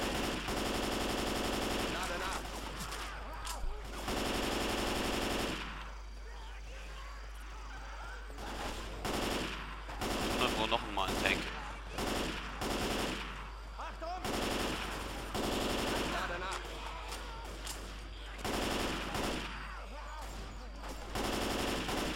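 Rapid automatic gunfire in the Left 4 Dead 2 video game, swamp plantation level, loud bursts that recur throughout, with someone talking in between.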